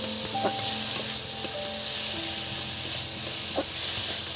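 Egg curry masala with poppy seed paste, a little sugar and salt fries in a pan, crackling in a steady close sizzle broken by occasional light clicks of a spatula.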